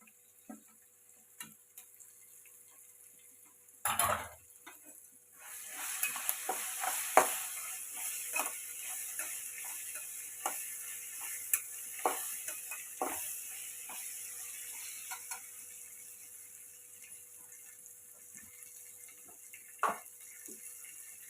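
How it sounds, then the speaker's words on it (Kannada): Chopped capsicum for capsicum rice fries in a hot pan, a broad steady sizzle rising after a sharp clatter of it going in, with scattered scraping clicks of stirring throughout, close and moderately loud. "ಕ್ಯಾಪ್ಸಿಕಮ್ ಕಟ್ ಮಾಡ್ಕೊಂಡಿದ್ದೀನಲ್ವಾ, ಅದನ್ನು ಇದಕ್ಕೆ ಆ್ಯಡ್ ಮಾಡ್ಕೊಳ್ತಿದ್ದೀನಿ"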